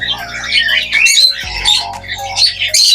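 Pet birds squawk and chirp while playing and pecking at each other, with repeated harsh calls close by and continuing throughout over a low background hum.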